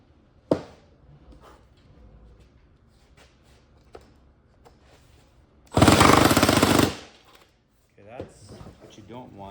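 A jigsaw rips through plywood on a vintage trailer door in one loud, harsh burst of a second or so, after scattered quieter knocks and handling taps, with brief noises following.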